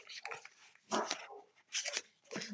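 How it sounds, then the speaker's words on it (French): A dog barks in a run of sharp, loud, close yaps in uneven bursts, with short gaps between them. "Désolé, mon chien va sûrement japper."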